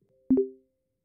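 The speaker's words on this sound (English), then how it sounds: "we should get a telegram notification that we can take a look at" A Telegram app notification chimes once, a short clean two-note electronic tone, quick and bright against silence before fading away.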